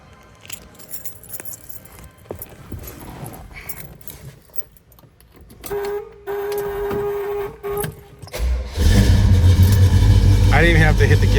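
A 1968 Pontiac GTO engine starts up and settles into a loud, steady idle for the last few seconds, preceded by faint handling noises and a brief tone.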